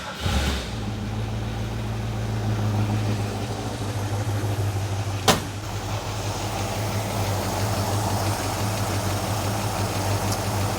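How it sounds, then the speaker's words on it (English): A 1968 Mustang convertible's 289 V8 idles steadily with a low, even rumble, broken by one sharp click midway. "let's start it up and listen to the motor"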